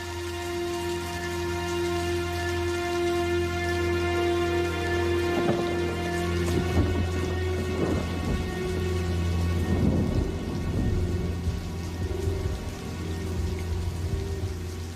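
Steady heavy rain pours through a thunderstorm, with rumbling thunder rolling in around the middle and building to louder crashes, a dense constant wash of rainfall underneath throughout.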